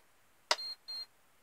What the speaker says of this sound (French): Bip bip, voilà, ça dit qu'il s'est bien mis sous tension